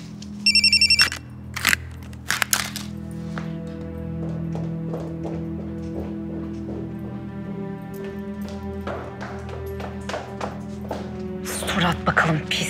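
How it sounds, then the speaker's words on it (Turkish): A home landline telephone rings in repeated electronic bursts, interleaved with dialogue and tapping sounds in a Turkish drama scene, the ringing loud and clear at the start and returning near the end. "Şeniz Hanım, ev telefonu da susmuyor"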